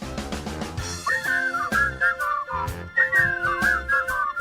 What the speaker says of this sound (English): I like the whistle part.